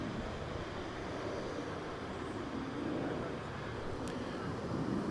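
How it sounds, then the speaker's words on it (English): A Frontier Airbus A321neo rolls for takeoff at DFW Airport, its jet engines a broad, distant, steady roar blended with wind buffeting the microphone, holding an even level throughout. "looks like Frontier Flight 4655 is rolling"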